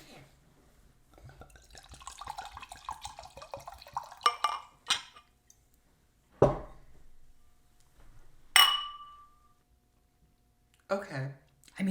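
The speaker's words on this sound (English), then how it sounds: "The ASMR pour." Drink poured from a bottle, a liquid stream splashing and gurgling into a glass for a few seconds, followed by several sharp clinks and thuds of glass and bottle set down, with short pauses between.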